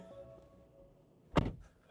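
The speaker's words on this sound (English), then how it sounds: "let's shut the door." A 2025 Ford Mach-E Premium AWD door shuts with a single solid clunk near the end, following quiet interior hum.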